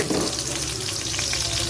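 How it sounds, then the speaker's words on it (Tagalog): Carrots fry in a pan for a Filipino chicken afritada, giving a steady, close hiss of sizzling oil with faint watery crackle throughout. "Fry natin yung ating carrots"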